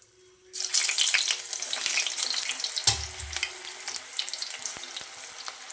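Onion pakoda batter dropped into hot oil bursts into a loud, dense crackling sizzle after a quiet start, with a brief low thump partway through and the frying continuing steadily up close, no speech.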